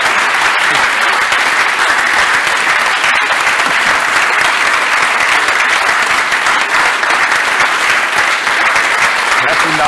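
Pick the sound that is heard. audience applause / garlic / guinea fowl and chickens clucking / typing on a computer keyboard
audience applause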